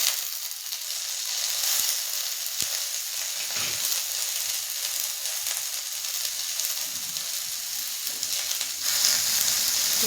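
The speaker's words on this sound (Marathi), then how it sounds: "आता ह्याच्यातच आपण टमाटे टाकून घेणार आहे. टमाटे टाकून ते पण थोडी भाजून घ्यायचे" Tomatoes fry in a pan of oil for a drumstick-pod vegetable dish, giving a steady, close sizzling hiss that runs throughout with no talking.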